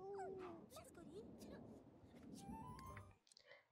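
A dog in The Sims 3: Generations whimpers and lets out short yips, with a person talking over it throughout.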